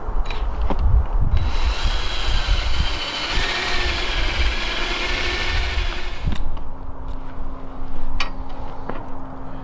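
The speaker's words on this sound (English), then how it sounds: "sounds like a lawnmower has now entered the game" A lawnmower engine drones nearby outdoors at a home garage setting, a steady rough hum with rising and falling intensity, punctuated by occasional sharp clicks and knocks from tool work close by.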